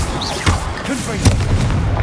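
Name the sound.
Confringo blasting spell explosion in video game Hogwarts Legacy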